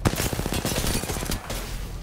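Rapid bursts of automatic gunfire rattle loudly and close for over a second, then a brief pause and a lower rumble.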